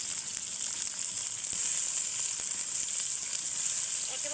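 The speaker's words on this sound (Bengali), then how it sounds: "এখন দিয়ে দেবো হচ্ছে পেঁয়াজ কুচি" Chopped onions sizzling in soybean oil in a home kitchen pan, a loud continuous hiss of frying that holds steady from start to finish with no talk.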